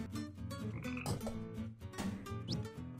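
A frog croaks in the video game Tasty Planet: Back for Seconds, a few short croaks over steady, busy game music and effects.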